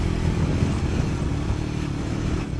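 Motorcycle ride toward the drop-off point of a mountain trail in North Cotabato, the engine droning steadily and loudly up close with wind rumble, no voices over it.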